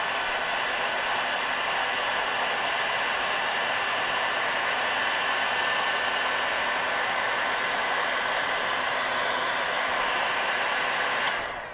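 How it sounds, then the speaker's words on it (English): A heat gun blows steadily while shrinking heat-shrink tubing over the turn signal wiring of a Yamaha XT350 motorcycle, a loud, even, close-up airy whir that runs unbroken before cutting off. "And then I'm going to heat shrink the rest of it."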